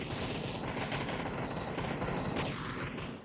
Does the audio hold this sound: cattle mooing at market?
no